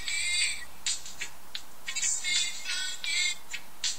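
An Android phone's notification ringtone plays a bright, bell-like melodic pattern in repeated bursts with short gaps, clear and moderately loud over a faint background.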